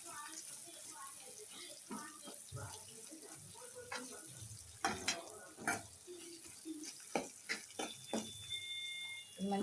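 Spices and turmeric frying in hot oil for a pachadi tempering, a soft, steady sizzle with occasional stirring scrapes and light pops, while a voice talks over it.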